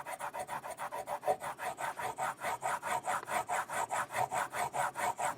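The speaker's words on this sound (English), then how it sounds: "I'm just going to polish them up with a real high-end eraser." Frets on a Fesley Telecaster guitar are polished with a 4000 grit abrasive eraser, making a quiet, steady back-and-forth rubbing in quick even strokes, about four per second, with no talk.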